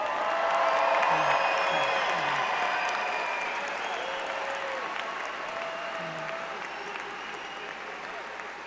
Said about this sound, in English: Let's give another round of applause for our class of 2026.